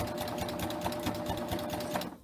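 A serger stitches a 2-thread narrow flatlock seam, running steadily at close range with a fast, even mechanical whirr and rhythmic clatter that stops abruptly at the end.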